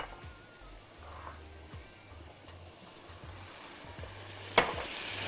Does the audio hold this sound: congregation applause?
no